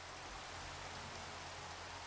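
Steady rain in the Minecraft video game, a soft, even hiss of falling drops that runs without a break, quiet and alone, with no voices.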